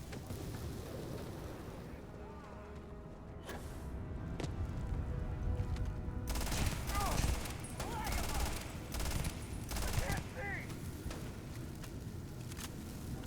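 Rapid bursts of automatic gunfire and explosive impacts in the Starfield video game, dense and continuous in overlapping volleys, with brief voice chatter underneath.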